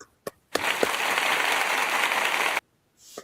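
An audience at a talk breaks into a burst of clapping that lasts about two seconds and then stops abruptly, with a few isolated claps before and after.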